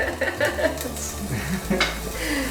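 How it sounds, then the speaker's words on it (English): Onions for vegan hot dogs slowly frying in a pan, a soft continuous sizzle with light clatter of utensils and cookware, close and moderately loud. "You can see the onions frying slowly."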